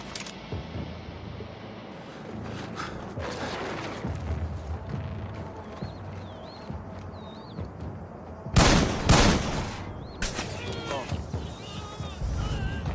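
Gunfire in the video game Splinter Cell Blacklist (French PS3 version): loud bursts of shots erupt against tense background sound, with a heavy volley midway and scattered shots after, and game voices are heard too.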